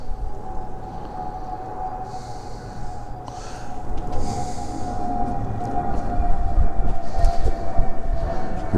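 A train rumbles across a railroad bridge beside Highway 7 in St. Louis Park, Minnesota, its steady, fairly close roar and a sustained tone growing louder toward the end.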